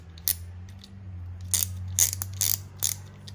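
Socket ratchet with a half-inch drive clicking in short bursts, about five separate sharp ratchet strokes close up over a steady low hum, the direction switched partway through.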